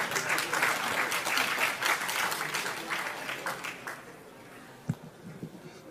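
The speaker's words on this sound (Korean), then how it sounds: "뜨거운 박수 보내주시기 바랍니다" A political party gathering at the National Assembly breaks into a warm round of applause that fades out after about four seconds, followed by quiet room tone and a single thump.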